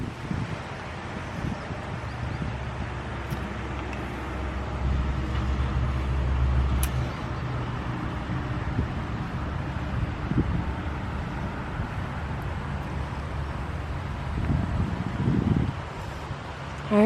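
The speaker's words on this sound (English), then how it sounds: "The wind picked up a little bit." Wind gusts through a small garden space with potted grasses, making a steady, close-up rumbling roar on the microphone that swells again near the end, with faint traffic-like noise underneath.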